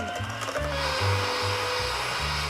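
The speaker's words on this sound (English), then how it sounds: "And it must be whisked for at least 5 minutes." An electric whisk beats egg yolks with sugar in a bowl, a steady motor whir with rhythmic low pulses as the beaters sweep around.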